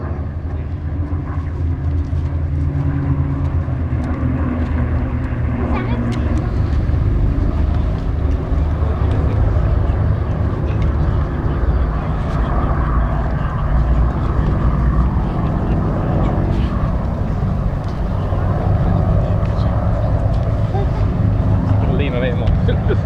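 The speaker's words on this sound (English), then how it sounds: "Stunning formation of the B-17 Sally B and the P-47, the Jug, the Thunderbolt" Piston-engine warbirds, a B-17 Flying Fortress bomber and a P-47 Thunderbolt fighter, fly in formation at an airshow, producing a loud, steady, continuous drone of propeller engines throughout.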